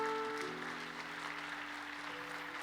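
A church congregation applauds a pastor being called forward during a university-group worship service, with soft, steady clapping under a sustained organ or keyboard tone.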